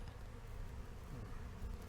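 A faint, steady buzz of honeybees in a hive hums close by, continuous and low, with no voices.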